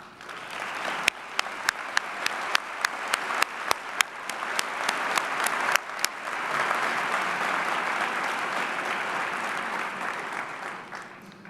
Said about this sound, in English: I know that your parents and the faculty present today would appreciate your recognition and applause.